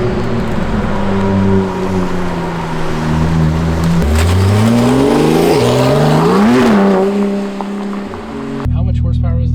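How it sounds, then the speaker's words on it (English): A Porsche fitted with a new aftermarket exhaust revs up repeatedly, its engine note climbing and falling in loud, close surges before cutting off abruptly near the end. "It's time to make sure the exhaust works."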